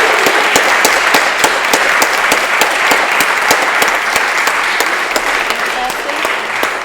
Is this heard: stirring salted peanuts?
no